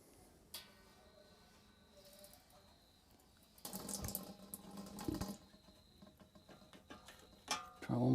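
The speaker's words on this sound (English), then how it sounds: "the siphon has begun" Wine being racked runs through a siphon tube with a faint, uneven gurgling trickle, broken by a few louder splashes and sloshes and soft handling knocks.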